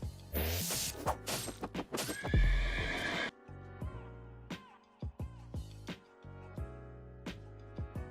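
Horned horse pet called a Kirin in the video game World Zero, giving loud repeated neighs and whinnies with clip-clopping hoof beats, heard alone in close, crisp game audio.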